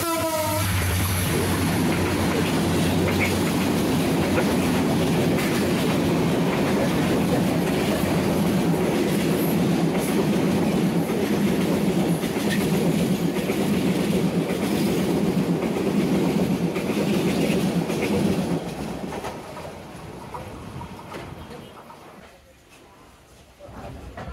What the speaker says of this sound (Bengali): আমাদের ট্রেনের রংপুর এক্সপ্রেসের সাথে এখন ক্রসিং হবে। আসছে রংপুর এক্সপ্রেস 3000।